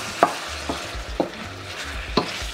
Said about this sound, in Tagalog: pwede na ilagay itong pork shoulder. Tapos haluin nyo lang maigi.